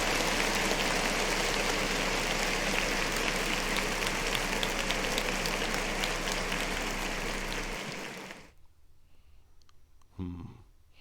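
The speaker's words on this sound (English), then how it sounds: "Clap it up for 50." A studio audience claps it up for 50 Cent during a podcast-style show, a dense, steady patter that runs for about eight seconds before cutting to near silence, followed by a brief soft sound.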